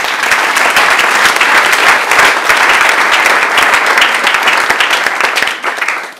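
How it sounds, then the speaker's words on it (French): A congregation at a Sunday church service applauding, loud sustained clapping from many hands with a dense crackling texture, holding steady before tapering slightly at the end. "Acclame pour la parole de Dieu"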